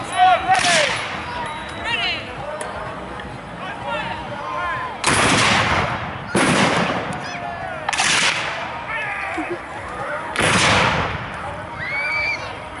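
Blank-fired muskets or rifles crack out in separate loud reports during a battle reenactment at Hull, roughly four big blasts spaced a couple of seconds apart over crowd murmur and outdoor ambience.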